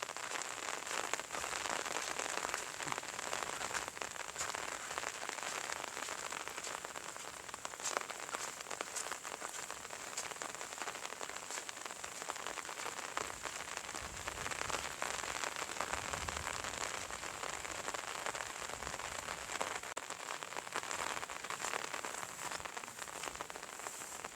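Steady rain falls continuously in a rural Isan setting in northeastern Thailand, an even, close hiss of drops on surfaces lasting throughout with no voices.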